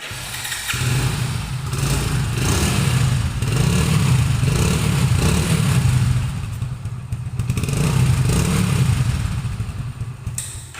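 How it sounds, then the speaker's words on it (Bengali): A first-owner used motorcycle engine runs steadily close by, a smooth, continuous mid-pitched rumble with gentle swells in loudness and no talking. "বাইকটির সাউন্ড কোয়ালিটি যদি দেখায় আপনাদেরকে"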